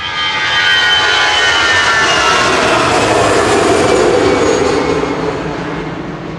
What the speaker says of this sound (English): Finnair departing now, heading back to Helsinki